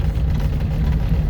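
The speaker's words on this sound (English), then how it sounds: "Third gear. Oh, that's lugging it." Engine of a 1956 Ford Anglia 100E lugging in third gear, a low, strained rumble with a pulsing throb, steady and close for just over a second.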